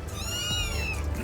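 A cat at a hostel gives a single drawn-out meow, fairly close and clear over a steady low background rumble.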